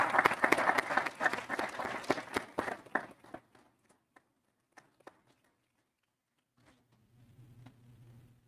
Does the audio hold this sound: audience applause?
yes